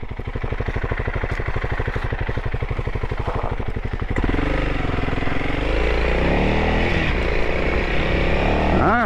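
A Honda CRF300L dual-sport motorcycle idles on a trail with a steady thumping beat, then the rider opens the throttle and the engine note rises into a louder, rougher pull under some wind.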